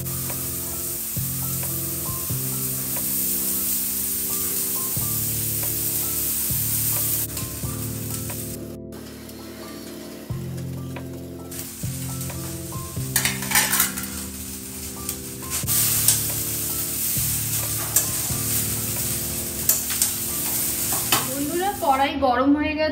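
Rice stir-fried in hot mustard oil in a wok, with a steady sizzle and repeated scraping and stirring strokes of a spatula, close and loud, with no talk.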